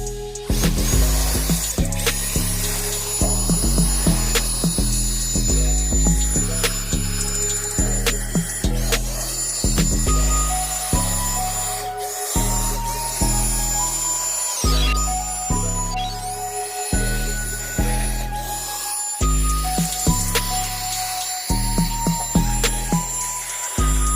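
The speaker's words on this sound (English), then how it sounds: "I'm going to blow all the old leaves off using this leaf blower" An electric leaf blower whines in repeated bursts, its motor pitch rising and dropping as it switches on and off, loud and close, blowing old leaves off a 1985 Cutlass.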